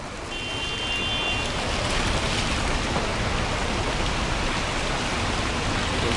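Nazareth Falls, a waterfall also called the Stairway to Heaven, gives off a loud, constant rushing roar of falling water, like heavy rain. It is dense and unbroken from start to finish, with no speech.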